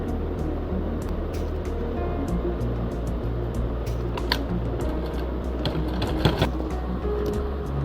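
A sewing machine hums in a continuous, fairly quiet run as it stitches lace onto the square neckline of a cotton frock, with small clicks and taps scattered over the steady whir and no talking.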